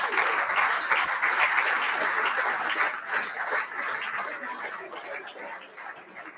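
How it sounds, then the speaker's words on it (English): Sustained audience applause fills a banquet hall at a GAA gala, steady dense clapping from start to finish with no voices over it. "And next to receive your applause, Kevin Cahir, Eamon McEnany, and Eamon Murph"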